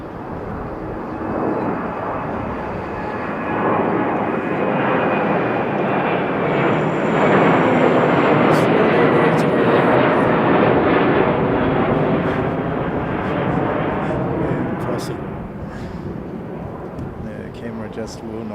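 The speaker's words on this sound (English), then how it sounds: "Takeoff." Airliner taking off at Sydney airport, a broad, sustained jet engine roar that swells and then slowly fades, heard from a distance while someone talks over it.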